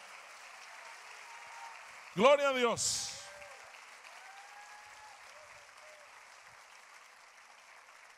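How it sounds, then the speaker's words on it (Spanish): A church congregation claps as an offering of praise to the Lord, a soft steady patter running throughout while a voice calls out briefly in the middle. "Dele una ofrenda de palmas al Señor"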